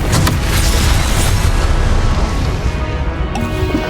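A fiery Confringo spell explodes in the video game Hogwarts Legacy, a loud, booming blast with a deep roar that rumbles on for several seconds and then fades.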